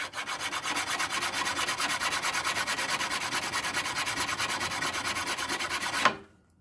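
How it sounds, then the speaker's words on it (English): Steady draw filing of a knife bevel, a hand file pushed across the steel in a fast even rhythm of rasping strokes, close and loud, stopping abruptly with a final scrape. "everybody's heard of draw filing"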